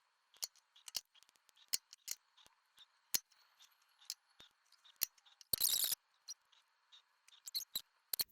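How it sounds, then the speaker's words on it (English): Scissors snip excess thin tape from a journal window frame in a quiet room: a series of crisp, close, isolated clicks and snips at an irregular pace, with one brief louder rustle partway through. "I'll trim off whatever's sticking out"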